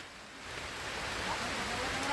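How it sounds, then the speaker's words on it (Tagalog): Heavy rain pours steadily outdoors during fence building, a soft broadband hiss that swells slightly louder over the couple of seconds, with no talk. "Oh, malakas na, malakas ang ulan."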